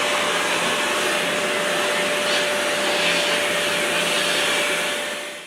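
A vacuum cleaner sucks settled dust off the outside casing of a workshop dust extractor, a steady, loud broadband whoosh with a faint constant whine running throughout and no talk.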